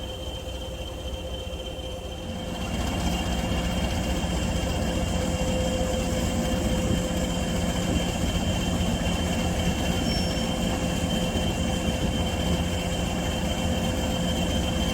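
A 73-ton, 1,000-horsepower diesel locomotive runs on a heritage railway, the Battlefield Line. It gives a steady, close rumble with a constant whine that swells a little louder after a couple of seconds and then holds evenly.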